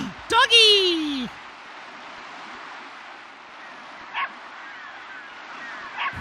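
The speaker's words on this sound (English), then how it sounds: "Who's a good dog? Who's a good dog?" A dog in the video game The Legend of Dragoon gives a short bark and a drawn-out falling whimper, loud and up close, followed by a couple of fainter yips over a steady hiss of background ambience.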